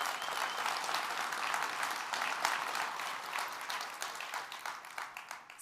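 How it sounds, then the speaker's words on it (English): Sustained applause from a large keynote audience for partners at a NetApp INSIGHT 2025 conference, dense steady clapping that holds throughout and tapers slightly at the end. "So give a round of applause to our partners out there."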